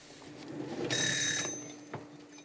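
A kitchen timer goes off at the end of boiling eggs, sounding a bright, ringing electronic alarm for about half a second at close range and moderate loudness over a quiet room, with no talking.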